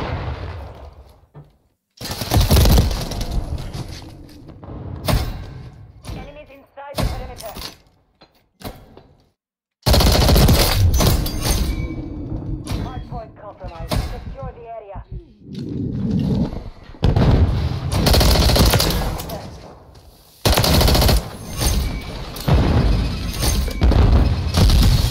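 Call of Duty MW3 gunfire during a Hardpoint match: loud automatic bursts and rapid shots come in dense clusters, broken by sudden quiet gaps, with some impact and glass-like crashes mixed in and no talking.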